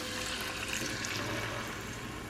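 Chicken stock pours steadily into a pressure cooker pot, a continuous soft splashing trickle with no talking, fairly close and even in level throughout.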